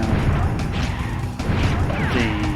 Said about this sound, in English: I guess if you had icicles that were that huge, it would sound like that.